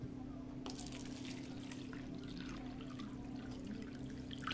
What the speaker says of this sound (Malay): Aku akan masukkan cawan pertama dengan air pipe.